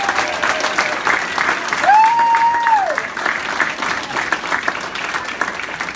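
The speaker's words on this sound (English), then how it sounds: "Let's give them a big collective round of applause." Audience at a hall of fame induction for a 1971 girls basketball team gives sustained, even applause that fills the room, with a brief whistle partway through.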